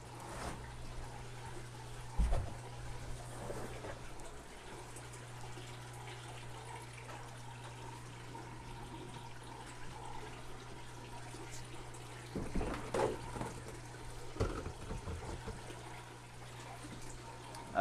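Water from a 150-gallon fish tank drains steadily into a trash can, a continuous rushing pour with a low hum beneath and a few louder splashes or knocks.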